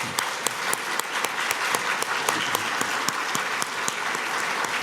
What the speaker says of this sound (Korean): 힘찬 격려의 박수를 부탁합니다